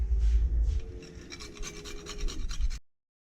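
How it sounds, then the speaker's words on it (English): Fresh nutmeg is grated over a French onion sauce Soubise, a close, soft rhythmic scraping and rasping lasting under three seconds before cutting to silence. "So I'm just going to grind a little bit more fresh nutmeg over the top."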